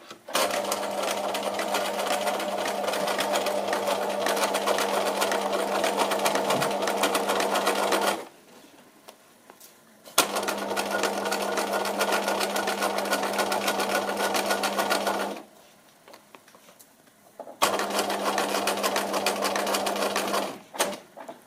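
Domestic sewing machine stitching a backstitch on a rounded-edge pocket, running steadily in three bursts of about eight, five and three seconds, separated by short pauses, close and loud with no talking.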